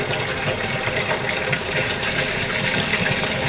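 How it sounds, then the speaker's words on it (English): Deionized water runs steadily over a precipitate during a quick laboratory filtration, a continuous close splashing and trickling rush with no talk. "wash the precipitate with some deionized water"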